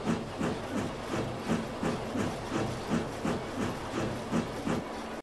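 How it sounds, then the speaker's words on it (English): A steam engine puffs and hisses in a steady, rhythmic series of chuffs, roughly two or three per second, moderately loud with no voices. "Splatter, I wonder why Richard Hatt still uses steam engines"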